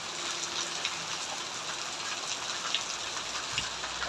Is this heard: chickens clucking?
no